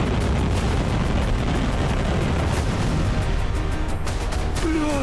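Missile explosions in Kharkiv, Ukraine, heard as loud, sustained, rumbling blast noise with dense low-end booms and crackling bursts, continuous across the clip.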